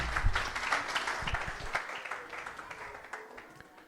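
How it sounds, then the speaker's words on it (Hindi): Audience applause in a church service, a dense patter of clapping that starts loud and gradually tapers off over a few seconds, with a faint voice underneath. "बहुत ताली बजाएंगे दोनों के लिए"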